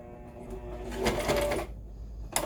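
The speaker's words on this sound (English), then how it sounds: "We're going to sew a couple stitches" A sewing machine runs steadily, stitching fabric ties onto a cloth face mask, its rapid motor hum swelling in the middle, then a brief pause before a short burst resumes at the end.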